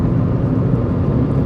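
Proton Wira saloon with a Mitsubishi-derived 1.5 Magma engine driving along, a steady low engine and road rumble from inside the car, loud and continuous with no talk.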